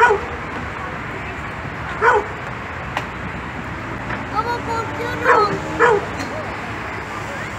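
A dog barks and yips a few times at moderate distance over a steady outdoor background, with people speaking at points.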